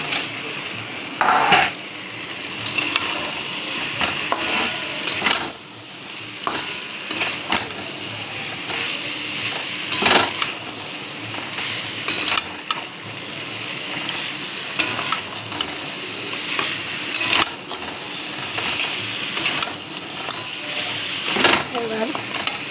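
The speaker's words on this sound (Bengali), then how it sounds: "এবার কচুগুলোকে দিয়ে দিই। কচু আর আলু যে সেদ্ধ করে রেখেছিলাম।" Boiled taro and potatoes stir-frying in a hot pan for a fish-head curry, with a steady loud sizzle broken by frequent scraping strokes of a spatula against the pan.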